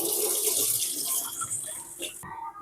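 Steady running water splashing and swishing over rice being rinsed in a bowl or sink, close by, then cutting off abruptly near the end.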